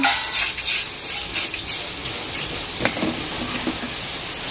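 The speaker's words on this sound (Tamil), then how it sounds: "நல்ல சூடாக காய்ச்சின எண்ணெயை விட்டோம்னாலே" Very hot oil poured over food in a home kitchen, giving a loud, continuous crackling sizzle with sharp pops and bursts of spatter, close up and unbroken for the whole stretch.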